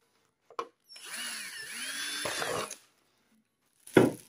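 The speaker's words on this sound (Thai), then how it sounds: "เจาะ4รูนะครับหรือว่า5รูเลยครับเราจะเจาะ5รูนะครับ" A power drill bores holes into a plastic water bottle: one close whirring burst of about two seconds, its pitch wavering as the bit bites, set between brief clicks and handling knocks.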